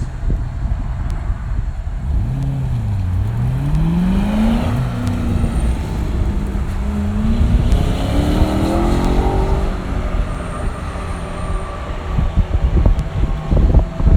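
A Corvette engine rises and falls in pitch as the car brakes and accelerates through the curves of an autocross course at Carlisle, loud and continuous throughout without any talking.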